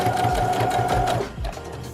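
A sewing machine back stitching elastic onto a reusable fabric face mask, a loud, close, steady mechanical whir with a rapid needle rhythm that briefly pauses and starts again.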